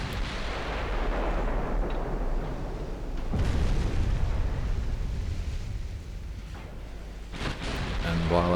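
Heavy 9-inch naval guns boom in the warship game Ultimate Admiral Dreadnoughts, with a sustained rumbling barrage and sharper blasts breaking out partway through and again near the end, loud and close.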